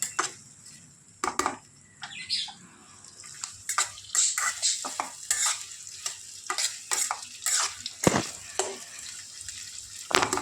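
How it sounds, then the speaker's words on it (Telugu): Sliced onions frying in hot oil for onion egg fry, stirred with a spatula, giving a soft sizzle punctuated by irregular clanks and scrapes against the pan, with brief pauses between strokes. "ఆయిల్ బాగా హీట్ ఎక్కింది ఆనియన్స్ వేసాం కదా మొత్తం తిప్పుకోవాలి"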